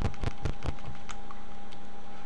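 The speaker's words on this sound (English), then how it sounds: "you can't hear the beating of my keys as much, because I have my keyboard in my lap" Typing on a computer keyboard resting in a lap: a quick burst of about five or six soft, muffled keystrokes, then a few sparse, fainter taps trailing off over a low steady hum.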